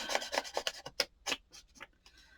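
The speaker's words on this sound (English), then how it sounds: "I'm actually going to ink the edge of this one" Short, repeated scrubbing strokes of an ink pad or applicator rubbed along the trimmed edge of a paper journal page, soft and close, in an uneven rhythm of about a dozen dabs with quiet gaps between them.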